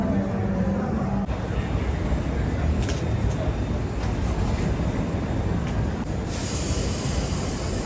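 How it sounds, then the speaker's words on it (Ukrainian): Tram in a Lisbon street, a loud continuous rail rumble with brief metallic squeals and clicks as it passes, along with nearby street sounds. "Зараз тут буде їхати трамвайчик"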